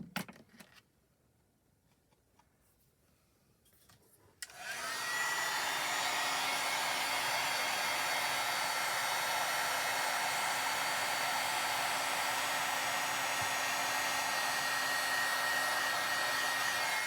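A heat tool drying distress ink on paper switches on after a few seconds of near silence, then blows a loud, constant whirring roar until the end.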